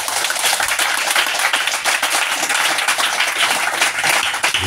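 A church congregation claps for honoured guests at an evangelism campaign service, bright dense applause from many hands that stays loud and even throughout with no talk.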